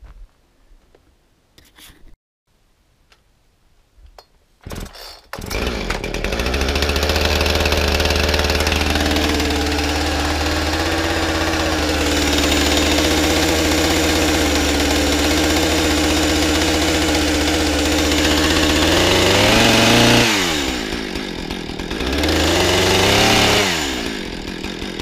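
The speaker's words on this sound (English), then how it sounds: "And I'll use this saw." Chainsaw used for cutting firewood starts after a few pulls, then roars steadily under load, dips briefly as the cut changes and revs up again, loud and close.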